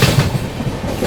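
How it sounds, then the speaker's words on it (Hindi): The CR Rajdhani Express, a 22222 service, runs through Kasara railway station at high speed, a loud, close rumble with rhythmic clickety-clack of wheels over rail joints throughout. "यहाँ पर अपनी सीआर राजधानी एक्सप्रेस स्किप कर रही है कसारा रेलवे स्टेशन को।"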